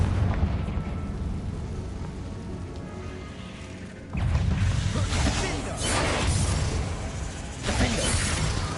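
Confringo blasting spells erupt in Hogwarts Legacy combat, several loud booming bursts with crackling debris, the heaviest arriving in the second half over a constant game soundscape.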